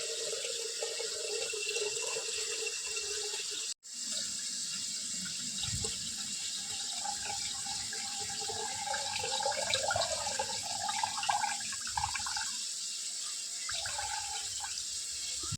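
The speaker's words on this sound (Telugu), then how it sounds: "మనం నానబెట్టుకున్న రైస్ వాటర్ తీసేస్తున్నాను" Water drains steadily from soaked rice being prepared for chicken bagara rice, a soft continuous trickle and splash close by, with no talking over it.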